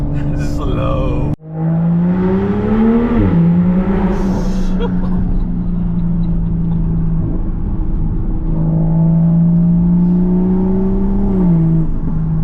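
A BMW M3 drives past with a throaty engine note that swells and fades as the car goes by at low speed, heard close and under loud talk.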